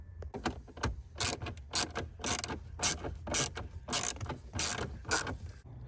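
Rapid ratchet clicking from a hand ratchet backing out a 7mm bolt on a 1994–1999 Cadillac dash, in eight or nine close, loud bursts of clicks with short pauses between strokes and no talk.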